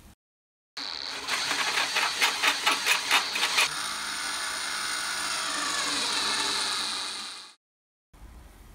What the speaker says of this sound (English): so we've drilled them out, threaded them, and then I just cleaned up this chamfer around the edge here